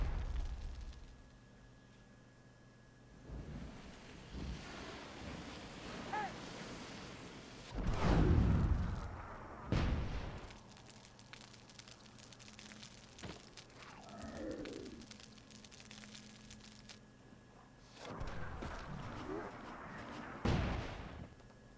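Artillery in the fantasy strategy game Myth II: Soulblighter fires during a competitive match, heard as a few heavy booms and blasts spaced several seconds apart, with quieter battle noise in between.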